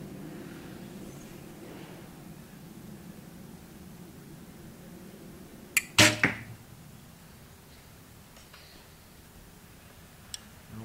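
A single arrow fitted with Jet6 vanes loosed from a bow: a sharp snap and whoosh followed by a quick thud, set against quiet outdoor background hiss, with a faint tick near the end.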